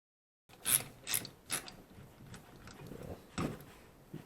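A ratchet turns on the dog bone engine mount bolts of a VW MK5 2.5 during water pump removal, sounding as several short, clicking ratchet bursts close by with quiet pauses between them.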